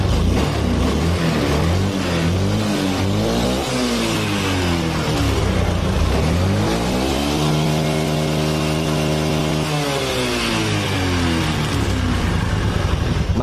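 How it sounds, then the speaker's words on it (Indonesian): A carbureted Honda Beat scooter engine, once running rough and unstable at idle, revs up and down repeatedly, its pitch climbing and falling in loud sweeping swells close by with no talk. "Mantap, meraung mesinnya."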